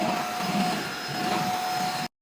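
Automatic robot vacuum cleaner running on max setting on a floor, giving a steady whirring hum with a faint tonal whine, constant and close, cutting off abruptly at the end.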